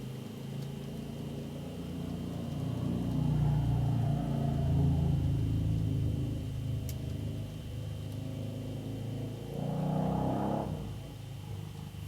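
An N gauge model freight train hauling car carriers rumbles past with a low motor whir, swelling in the middle and again near the end, with no voices.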